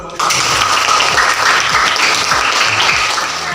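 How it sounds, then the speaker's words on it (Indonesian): Classroom applause in an Indonesian English lesson on numbers, students clapping loudly and continuously from just after the start to the end, close and full. "beri tepuk tangan dulu"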